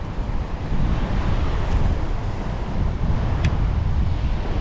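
Steady, heavy wind rumbles and buffets the microphone outdoors by the sea at a barrier in Bacolod, with a faint wash of surf from big waves beneath; no voices.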